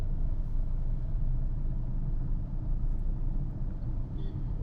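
A car engine cruising in third gear, with clutch control, along MC Road in North Chennai. It gives a steady, close, low rumble that holds a fairly even level throughout, with no talk over it.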